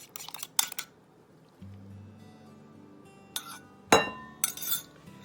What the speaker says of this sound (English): you're going to mix this together real well, and it's going to get thick and a little pasty in here